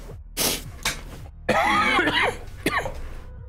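Several harsh, close coughs in quick succession, ending with a throat-clearing rasp.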